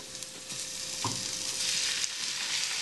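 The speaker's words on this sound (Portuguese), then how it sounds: "Então nós vamos dourar bem primeiro o alho e na sequência a cebola" Garlic browning in a frying pan before onion goes in makes a soft, even sizzle that swells slightly, with one brief utensil knock near the start and no speech.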